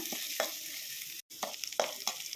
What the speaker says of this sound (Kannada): ಕರ್ಬೇವಿನ ಸೊಪ್ಪು ಇವಾಗೆಲ್ಲ ಫ್ರೈ ಮಾಡ್ಕೊಳ್ಳೋಣ